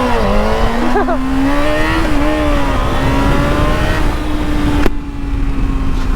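A misfiring motorcycle engine revs hard and close, its pitch climbing and wavering in bursts before settling into a high steady drone, loud and alone.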